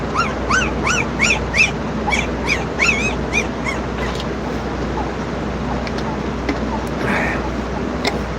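Young puppies yapping and whimpering nearby in a quick run of high-pitched yips that taper off into fainter whines over a low rumbling background.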